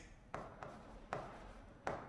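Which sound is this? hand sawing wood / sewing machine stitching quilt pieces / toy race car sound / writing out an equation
writing out an equation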